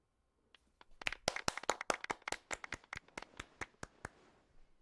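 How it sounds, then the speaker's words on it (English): Applause at an award ceremony in the video game Genshin Impact: a short burst of crisp, evenly spaced claps that swells and then thins out, heard alone with no talk. "one last big round of applause."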